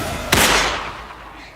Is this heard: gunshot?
yes